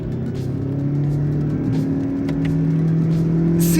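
Hybrid 2023 Lexus ES 300h F Sport engine humming steadily after a downshift while driving, a close droning tone that rises slightly under road noise, with no talk.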